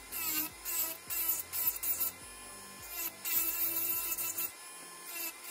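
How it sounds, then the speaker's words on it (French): A nail file rubs back and forth over a gel nail in short, quick strokes, a faint dry scraping that comes in bursts with brief pauses, close up and without talk. "donc je vais limer"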